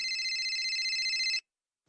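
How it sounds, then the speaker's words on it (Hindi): A mobile phone ringtone plays, a steady bright electronic tone held for over a second and then cut off abruptly, loud and close with no talk. "गौरव का फोन बज उठा।"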